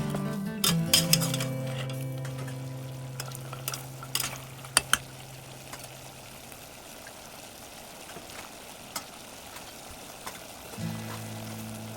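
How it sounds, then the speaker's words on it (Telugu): A spoon stirs ginger garlic paste into frying mutton for Hyderabadi haleem, giving soft scraping and occasional metallic clinks against the pot over a low steady sizzle, with no talking. "అల్లం వెల్లుల్లి పేస్ట్ వేసి బాగా కలుపుకొని"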